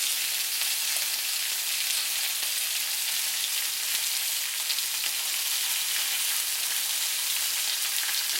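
Chicken wings sizzle and fry in a hot pan as they brown, giving a steady, even crackle that runs without a break at moderate volume, with no voices.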